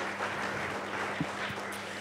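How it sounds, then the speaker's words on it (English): An audience at an arts and culture panel discussion gives a short, soft round of applause, a faint, even patter of clapping heard from a distance. "Another round of applause for Maddo."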